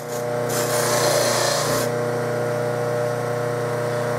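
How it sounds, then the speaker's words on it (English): A buffing wheel spins steadily on a bass trombone part, its motor hum constant throughout, with a brighter, louder rasp of polishing contact in the first couple of seconds before settling back to a smooth whir. "I just put my hand over that so that the buffing wheel hits my glove and not the"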